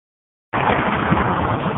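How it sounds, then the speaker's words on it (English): Steady road rumble from a vehicle driving an old brick street in the Fort Worth Stockyards, starting abruptly after a moment of silence and continuing as a dense, even roar. "Sorry for the road noise"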